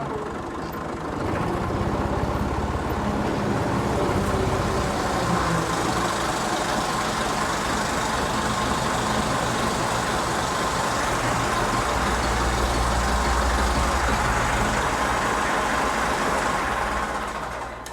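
A farm tractor engine runs steadily while driving along, a continuous low rumble with road noise that holds at an even level throughout.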